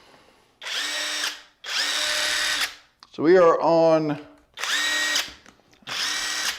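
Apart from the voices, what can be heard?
Alloyman 1/2 inch cordless impact wrench running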